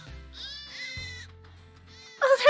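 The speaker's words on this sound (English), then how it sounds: "It is the sheep rats!" Horned sheep-rat creatures in the Grandia II video game bleat in a series of nasal, wavering cries with short gaps between them, ending in a brighter, noisier burst.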